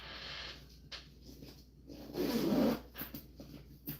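A zipper on a fabric bag being sewn rasps in one loud, close pull, with soft rubbing and handling of the material before and after it.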